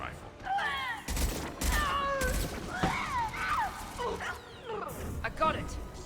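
Rifle fire in the Mass Effect video game, a sustained fusillade of loud close shots and bursts mixed with game effects and voices talking over it.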